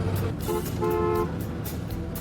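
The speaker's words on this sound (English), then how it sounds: "Horn works." A classic car's horn sounds twice, a brief toot followed by a longer blast, over the steady rumble of the running engine.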